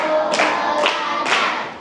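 Children clap out a counting routine in a classroom, three sharp group claps spaced about half a second apart, loud and close with no talking over them.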